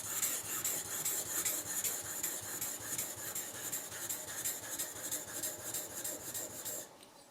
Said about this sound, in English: You just need to sharpen it, touch a little bit more to even sharpness.